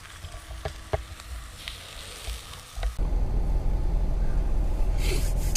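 Sausage sizzles in a pan at a campsite. Scattered clinks and breaths give way to a loud, steady frying hiss that continues to the end.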